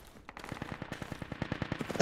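Automatic gunfire from a first-person shooter video game rattles in a fast, even burst of about twenty rounds, growing slightly louder before a sharp loud crack at the end, with no talking over it.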